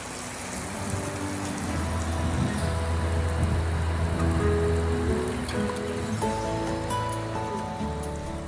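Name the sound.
watering a garden bed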